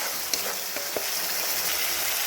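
Spice masala sautés in a pan for a brinjal and coriander dish, a continuous close sizzle with a few sharp spatula taps early on, no voices.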